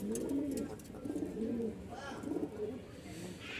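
Soft, low cooing of pigeons repeats in short rolling phrases, close by, with faint noise in the background.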